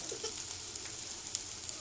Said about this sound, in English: Take your spoon and stir it up in there.